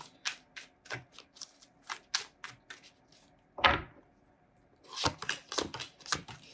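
Tarot cards being shuffled close up in quick riffling bursts, a pause with one sharper riffle, then another rapid series of shuffles.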